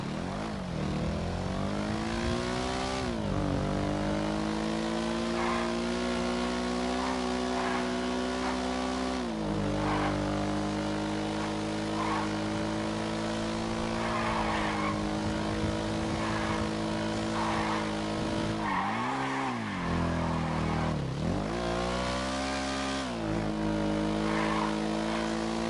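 The Esky, a two-seater bike, with its engine droning steadily and revving through repeated rising and falling swells, a loud buzzing motor tone held close for the whole stretch with no talking.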